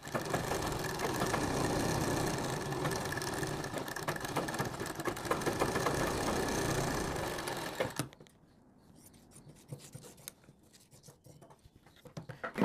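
A sewing machine runs a fine straight stitch around the round collar of a kurti, whirring steadily and close for about eight seconds, then stops, leaving only soft handling noises.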